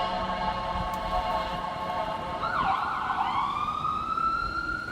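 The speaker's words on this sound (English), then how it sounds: "I'm gonna let that ambulance ride by, siren" An ambulance siren passes by, its wailing tone sweeping and shifting pitch as it goes by at moderate distance over steady background traffic noise.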